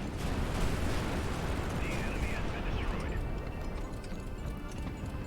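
Heavy naval guns in the fleet battle game High Fleet boom in a dense, rumbling cannonade, loud and continuous throughout, with a faint chirping tone partway through and a voice talking over it.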